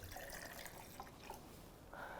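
Water trickles and splashes faintly as it is poured from a tea kettle in a science demonstration about pH, a soft, continuous liquid stream.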